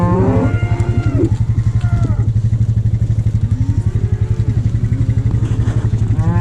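Dairy cows moo repeatedly in a milking shed with over 80 cows, several drawn-out calls near and far over the steady rhythmic pulse of milking machinery, with brief human voices mixed in.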